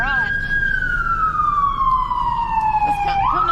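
An ambulance siren on a cold street wails loud and close, one long descending sweep followed by a sharp upward rise as the next cycle starts, dominating the scene.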